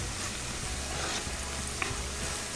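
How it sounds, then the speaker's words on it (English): Eggplant pieces and dried shrimp sauté in a pan with a soft, constant sizzle and low background hum, a faint tap or two of stirring near the end. "I'll saute this for about 2 minutes."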